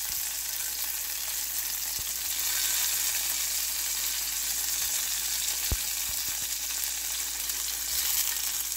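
Sweet potato gnocchi sizzles steadily in a very hot pan as they brown, a dense continuous hiss with a few soft clicks from the pan and no voices.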